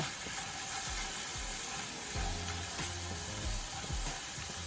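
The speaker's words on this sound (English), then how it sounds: "I'm gonna just let them sit in there and get grilled also." Cebollitas (spring onions) sizzle on a grill, a steady close hiss with faint crackles and soft low clatters, with no talk over it.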